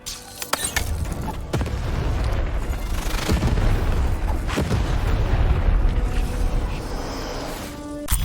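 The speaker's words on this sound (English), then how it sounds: "Shoot the button to fire the cannon." A cannon fires in the Lost in Random video game, with a sharp opening blast followed by a long, heavy rumbling boom and scattered bursts and pops before it fades.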